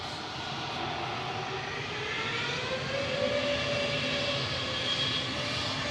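A jet airliner departs for Paphos, its engines making a steady broadband roar that holds evenly at moderate loudness for the whole stretch, with a faint whine riding on top.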